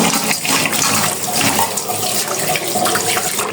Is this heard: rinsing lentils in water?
yes